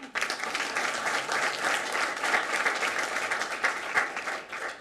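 Steady, dense applause fills a board of education meeting room as the audience claps for a student, a sustained wash of many hands at an even level from start to finish.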